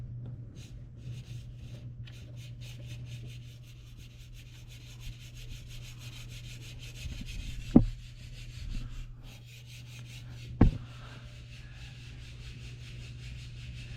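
A radiator fan on a 2000 Dodge Durango rubs as it turns: a repetitive scraping rub over a steady low hum, faint and rhythmic, with a couple of sharp knocks partway through.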